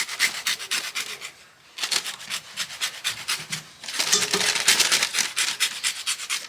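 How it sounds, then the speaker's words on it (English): Lemon peel rasped against a zester in short, repeated scraping strokes, close and fairly loud, with a brief pause before the rubbing resumes more steadily. "And 1 tablespoon lemon zest, which is just peeling this off a bit."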